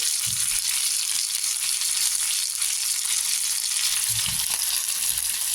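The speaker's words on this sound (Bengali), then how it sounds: "পেঁয়াজটা আমার ভাজা হয়েছে, দিয়ে দিচ্ছি টমেটো কুচি" Chopped tomato is tipped into a pan of frying onions, giving a steady, close sizzle and hiss with a couple of soft low thumps near the start and again later, and no one speaking.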